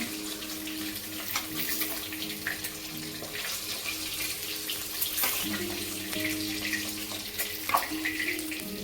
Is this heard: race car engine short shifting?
no